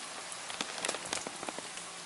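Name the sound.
rain falling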